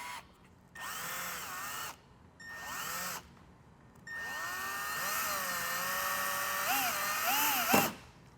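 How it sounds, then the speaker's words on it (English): A power drill whines in short bursts, then runs longer with the pitch bending as it bites through a Tesla's plastic outer tail light, close up. "So I'm gonna go ahead and drill a hole right here."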